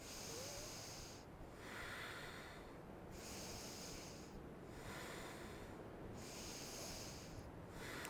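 Slow, steady nasal breathing during a vinyasa yoga class, held in a warrior two pose, gives three long airy cycles of inhale and exhale, close and hissy, with no talking.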